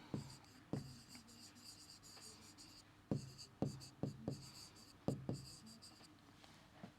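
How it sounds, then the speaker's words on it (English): A pencil sketches a rough geometry figure on paper, producing quiet scratchy strokes with sharp taps as lines begin, arriving in short irregular bursts close to the listener, no speech. "So, we will draw its rough sketch first."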